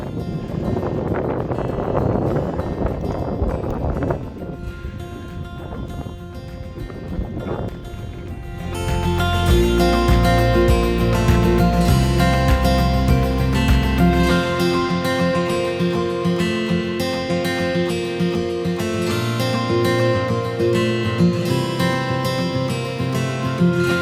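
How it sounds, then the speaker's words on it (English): Gusty wind buffets the microphone on a Scottish mountain top in winter for several seconds before music takes over and drowns it out. "Definitely getting quite windy at the top."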